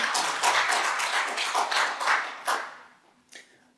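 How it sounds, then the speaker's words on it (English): A short burst of clapping from a small group in a council planning committee chamber, several uneven rounds fading out within a few seconds. "You can clap if you want."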